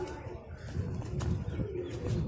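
Soft, throaty cooing from perched flying pigeons rolls on low and continuous over a murmuring outdoor background.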